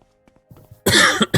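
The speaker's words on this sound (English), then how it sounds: "Excuse the coughing" A burst of harsh, loud coughing erupts after a second of near quiet, two or three rough hacks close to the microphone from someone clearing a tickle in the throat.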